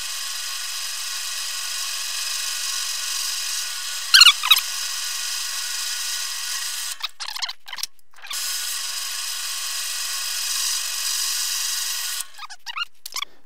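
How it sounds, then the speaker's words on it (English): A power drill drilling into plastic for a robot chassis whines steadily for several seconds, cuts out briefly with a few clicks, runs again, then stops near the end. "Actually pretty scary stuff, drilling into plastic."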